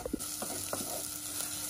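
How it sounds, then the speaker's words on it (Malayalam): Masala with green chilli sautéing in a pan for Kerala-style squid roast, a continuous close sizzle with soft stirring scrapes and spoon taps. "മസാലയുടെ പച്ചമുളം മാറുന്നവരെ ഒന്ന് വഴറ്റിയെടുക്കുക."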